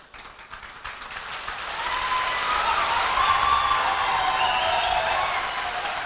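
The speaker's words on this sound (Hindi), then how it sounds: "एक बार जोरदार तालियां आपके सम्मान में" Loud audience applause at a motivational talk, a dense wash of clapping that swells after the first second and holds steady to the end, with no voices over it.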